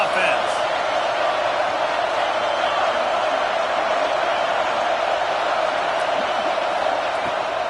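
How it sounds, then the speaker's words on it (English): Loud football stadium crowd roaring and cheering in an enclosed building, a dense, sustained wall of fan noise throughout with a voice talking over it. "These fans are going absolutely nuts."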